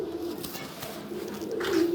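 Pigeons in a breeder's loft coo softly nearby, low throaty repeated calls with a slight swell toward the end, heard without talk.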